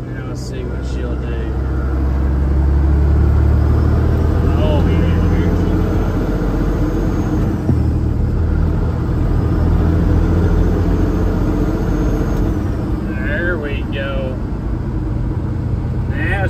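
A Peterbilt 379 truck engine drones loud and close while driving, a deep steady rumble with slowly shifting pitch and brief higher whines, as a voice talks over it at times.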